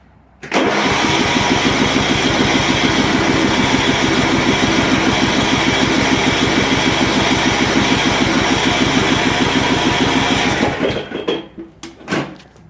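A 1992 Craftsman 36-inch lawn tractor engine cranks and starts cold, then runs at a loud, steady, close throb for about ten seconds before cutting out, followed by a few clunks.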